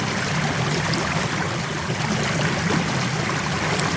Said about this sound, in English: a nice river like this we're hearing now